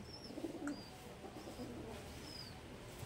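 A pagla-line pigeon coos softly in low, repeated murmurs, joined by a few faint high chirps from other birds in a quiet setting, with no talking.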